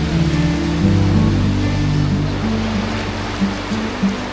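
A steady wash of sea waves and surf at Nagtabon Beach, with a low droning hum running underneath.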